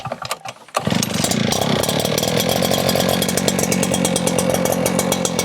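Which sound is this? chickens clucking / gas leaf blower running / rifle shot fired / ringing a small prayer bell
gas leaf blower running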